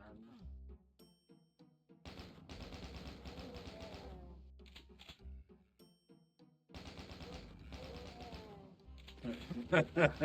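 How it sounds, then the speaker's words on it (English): In the video game Doom II, a chaingun fires in rapid bursts of repeated shots, starting and stopping several times while someone talks over the gameplay. "That chain gun."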